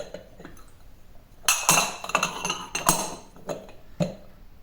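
Glass dessert cups knocking and clinking together, a handful of sharp bright taps in irregular bursts, close and fairly loud, with no talk.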